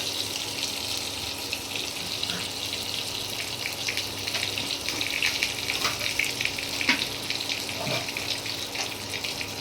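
Milk poured into pointed gourd frying in a pan, giving a steady watery hiss and sizzle with faint splashy clatter throughout, fairly soft and close.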